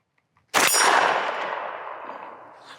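A single sharp shot from a Luger carbine cracks loudly and close, followed by a long ringing decay that fades over two seconds, with no talk.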